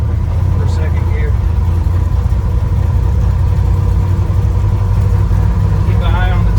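A 1966 Ford F100 pickup's engine drones steadily through a gear change into second, a loud continuous low rumble with faint speech-like sounds over it.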